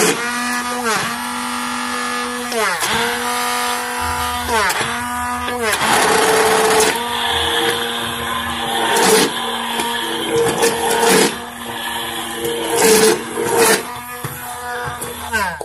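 A blender whirs loudly in bursts, stopping and restarting as it purées chunks of potimarron pumpkin for soup, then speeds up into a higher turbo setting while a voice speaks over it.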